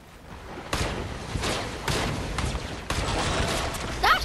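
Gunfire in a video game battle against a shark, a few heavy bursts of shots at roughly one-second intervals over a steady noisy background, moderately loud.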